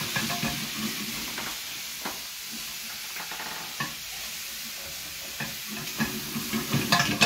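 Spiced onions being stirred in a hot pan for a curry base give a steady close sizzle, broken by irregular scraping stir strokes that grow busier toward the end, with no talking.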